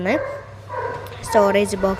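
A dog in a home where a storage box is being made lets out a few short, high yips and barks, close by, with a louder cluster near the end.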